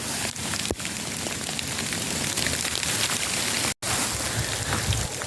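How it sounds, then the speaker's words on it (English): Hail falling outdoors in British weather, heard as a dense, steady patter and hiss close around, continuous for several seconds with one brief dropout, no voices. "I'm standing in hail. It's hailing."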